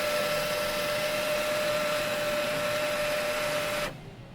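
An Epson L1300 printer with blinking error lights drones loudly and steadily up close with a constant mechanical whine, then cuts off abruptly near the end, leaving faint room noise.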